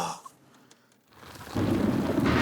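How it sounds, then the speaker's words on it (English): A thunderstorm starts with a faint rumble and a quiet lull, then pouring rain suddenly roars in loud and steady, and it lasts to the end. "Oh boy, we got a storm. rain comes pouring down."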